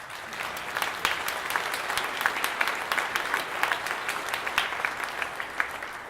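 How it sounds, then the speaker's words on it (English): Steady applause from a conference audience thanking event sponsors at a DevOps gathering, dense clapping that runs evenly throughout at moderate level without voices over it. "Applause."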